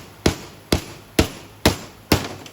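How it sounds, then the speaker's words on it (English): A hammer drives a seal into a Dana 18 transfer case on a 1946 CJ2A Jeep. Five sharp, evenly spaced metallic knocks ring out close and loud, each with a short decay. "Just hammer your seal down in there"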